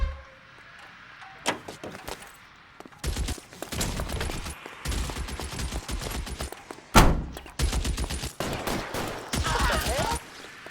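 Bursts of gunfire ring out in L.A. Noire, rapid volleys and single loud shots crackling across the scene amid vehicle and door clatter, with brief voices underneath.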